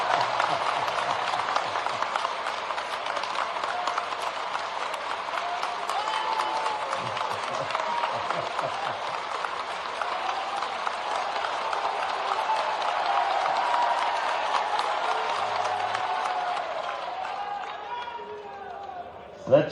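Large audience at a panchayat secretaries' federation convention on the Dussehra ground in Bhopal clapping steadily, a broad sustained wash of applause with scattered voices that fades out at the end.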